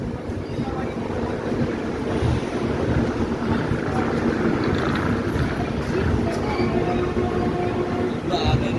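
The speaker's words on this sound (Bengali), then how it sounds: "তো বন্ধুরা আমরা এখন ঢুকছি সাঁতরাগাছি।" The Garib Rath Express, train 12881, rolls into Santragachi junction with a continuous low rumble and rattle of wheels and carriages, heavy wind buffeting the microphone, heard from on board at close range.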